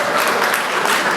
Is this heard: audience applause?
yes